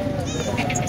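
A milking goat at the Haripur livestock market bleats in a short, wavering cry over a busy crowd murmur, with voices talking nearby.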